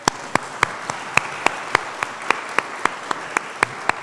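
Applause at an education and games symposium, heard as a steady run of sharp, evenly spaced claps at a brisk pace against a quiet room background.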